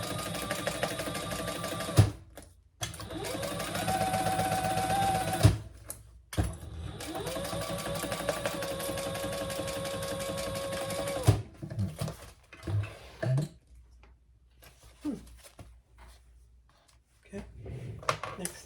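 A sewing machine stitching across the top of a crossbody bag runs in several steady bursts of rapid, even mechanical chatter separated by brief pauses, then gives way to quiet handling sounds.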